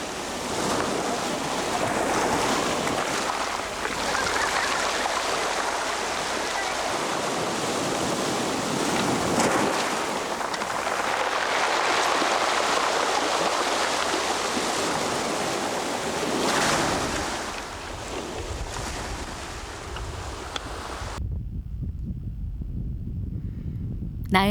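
Rough sea waves surge continuously onto a pebble beach on Geoje, with a constant hissing wash of surf, swelling and receding, and wind noise before an abrupt quieter stretch near the end.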